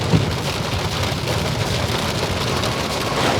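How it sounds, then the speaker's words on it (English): Heavy hail pelting down outdoors in a forested Portland-area neighborhood, a dense continuous hiss and patter of hard impacts with no speech. "It's really hailing good."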